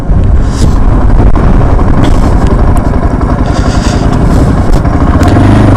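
A 2025 Yezdi Adventure motorcycle engine runs close and loud, a dense, steady throbbing rumble with slight rhythmic variation and no talk over it.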